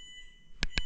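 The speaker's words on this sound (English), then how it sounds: "The alarm in the hotel is going off." A hotel fire or smoke alarm sounds two sharp beeps in quick succession, loud and close, after a quiet stretch of room tone.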